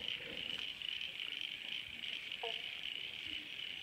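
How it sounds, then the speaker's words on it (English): A banjo frog gives a single short, plucked bonk partway through, set against a steady high chorus of crickets and insects in quiet bushland. "Banjo frog."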